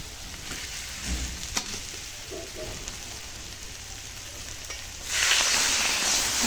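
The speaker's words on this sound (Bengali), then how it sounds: "পুরো কাড়া করে ভেজে নেব।" Potato and paneer fry in a pan with dry chili powder under a soft, continuous sizzle with occasional stirring taps. Near the end a louder, brighter hiss swells up, close and without voices.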